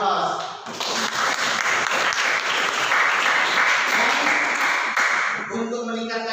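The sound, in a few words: audience applause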